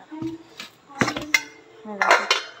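A roti box is opened in a home kitchen, with metal dishes and cutlery clattering in a few quick, close, bright clinks and bangs over about three seconds.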